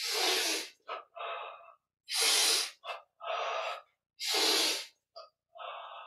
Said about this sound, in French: Inspire derrière. Expire devant.